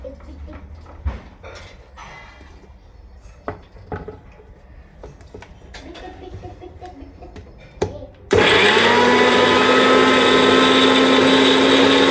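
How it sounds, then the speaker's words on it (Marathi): A mixer grinder blending fresh coconut green chutney starts abruptly after scattered kitchen knocks and clatter, then roars loud and steady, close and alone to the end. "चला आता काढून घेऊ मिक्सरला"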